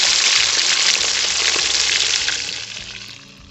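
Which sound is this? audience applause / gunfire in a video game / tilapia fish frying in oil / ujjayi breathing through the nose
tilapia fish frying in oil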